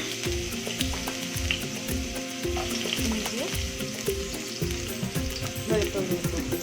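Ginger and garlic sizzle in a little oil in a pan, a steady loud frying crackle with occasional stirring scrapes and no voices.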